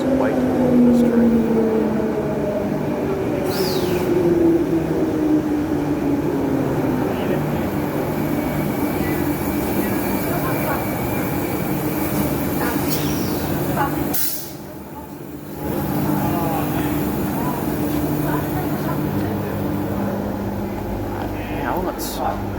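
A new Perth train runs along a long platform at Perth Station, its motor and rolling noise steady and close before a brief dip midway, with a hiss of air at the start; people talk faintly in the background.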